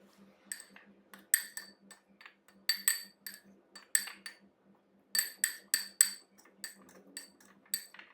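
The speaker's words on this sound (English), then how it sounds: "Put in the powdered sugar and store in a glass jar." Gummies coated in powdered sugar are dropped into a glass jar, making a run of light, sharp clinks in irregular bursts, close and clear with no talking.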